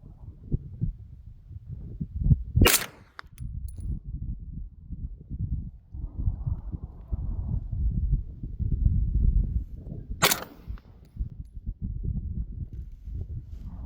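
Two sharp, loud carbine rifle shots fired toward a distant hillside target, about seven seconds apart, each a sudden crack over low rustling outdoor background.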